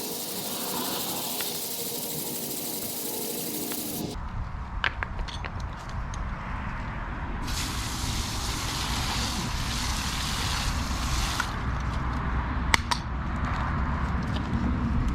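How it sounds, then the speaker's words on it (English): A brush scrubs a car tire and wheel coated in wheel cleaner, producing close, rasping bursts of scrubbing that come and go over a steady background. "so we'll go ahead and give it a scrub"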